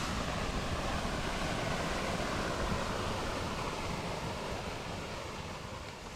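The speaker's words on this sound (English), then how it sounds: "You can see the pump that supplies the water down a trough that exits here and falls down into this pond." Water pumped down a trough and falling into a garden pond, a steady dense splashing rush that stays constant and close, alone without talk.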